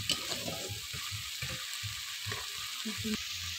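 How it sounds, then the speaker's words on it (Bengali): Ginger-garlic paste frying in hot oil in a pan, a soft continuous sizzle punctuated by repeated low thuds and scrapes of stirring, fairly close and moderate in level. "তেলের উপর মশলাটা ভালো করে লাল লাল করে ভেজে নেব।"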